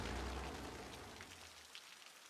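Rain in the city-building game Cities: Skylines, a soft steady hiss of rainfall that gradually thins and grows quieter, with no voices.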